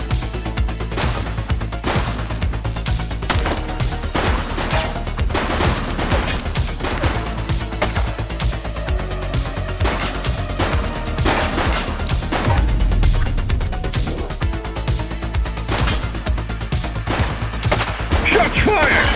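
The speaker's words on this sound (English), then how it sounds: "Shots fired!" Rapid, dense gunfire in the police video game The Precinct, with loud repeated shots and crashing impacts running continuously throughout, a sustained fusillade with no pause.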